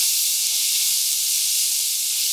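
Oyster mushrooms and sweet potato stems stir-frying together in a pan, giving a steady, close, unbroken sizzling hiss with no voices.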